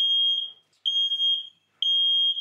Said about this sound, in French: Ah, alarme de chaleur. Il a l'air de faire moins de bruit que les autres.